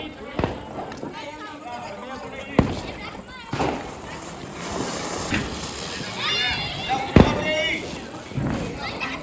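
Diwali firecrackers burst in a village street, sharp loud bangs at intervals standing out over constant chatter and shouting voices of people nearby.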